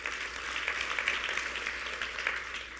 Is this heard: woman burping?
no